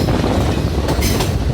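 A train pulls into Haliela railway station in Sri Lanka on the Badulla to Colombo route, a loud close rumble of wheels and carriages with rhythmic clacking and a brief brighter squeal or hiss near the end.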